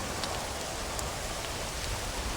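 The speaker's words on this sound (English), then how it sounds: "Make no sense why y'all sitting in the rain." Steady rain falls in the Western video game Red Dead Redemption, an even, hissing patter of drops on the ground with a few sharper ticks and no voices over it.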